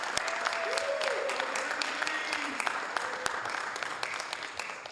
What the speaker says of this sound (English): Let's give Southgate another big round of applause and then we'll proceed.